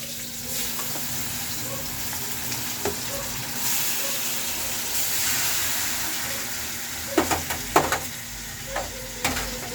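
Pork sizzles in a pan with plenty of onions, a steady frying hiss with occasional stirring clatters and scrapes near the end.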